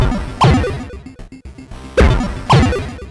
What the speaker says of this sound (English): It will sound like a typical 8-bit console.